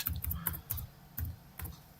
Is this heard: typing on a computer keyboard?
yes